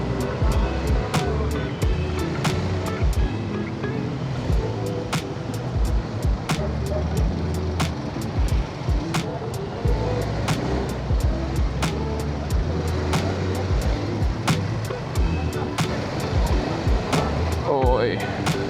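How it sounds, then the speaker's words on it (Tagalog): Heavy two-lane traffic in Cebu surrounds a rider on a Honda ADV 350 scooter: a constant close engine and road rumble with wind buffeting, regular sharp clicks, and voices talking over it. "Ang daming sasakyan."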